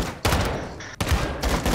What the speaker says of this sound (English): fire one bullet at the lights.